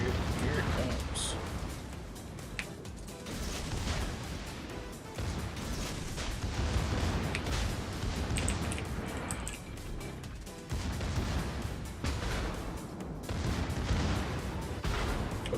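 Torpedo strikes hammer a battleship in a naval combat video game, a dense run of booming blasts and crashing impacts rumbling continuously and loudly throughout, with talk underneath.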